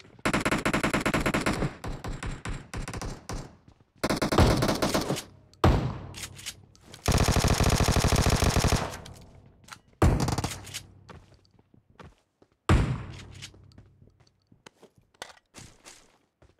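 Rapid bursts of gunfire from a shooter video game, including shotgun blasts, come in loud repeated volleys separated by short pauses, with sharp impacts and scraping between bursts.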